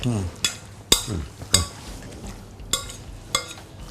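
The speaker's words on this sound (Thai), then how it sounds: "น้ำมันร้อนแล้วใช่ ตะไคร้ใส่ลงไปเขาลงหน่อย" Coarsely pounded lemongrass frying in hot oil crackles under loud talk, with sharp clattering stirs against the pan recurring roughly every half second to second.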